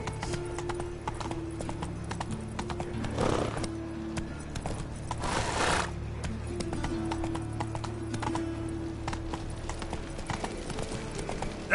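Roach, the horse in The Witcher 3 game, gallops with a steady, rapid drumming of hooves over a low droning hum, with two brief whooshing bursts in the middle.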